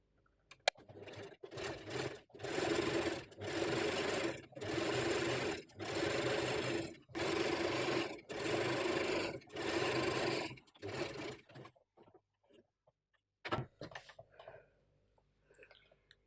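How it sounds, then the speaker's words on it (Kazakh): A domestic sewing machine topstitches the seam of a fabric turban in several steady bursts, each a few seconds long with brief pauses between, close and clear, then a few quiet handling clicks at the end. "Енді тігісін бастырып, үстінен тігіп шығамыз."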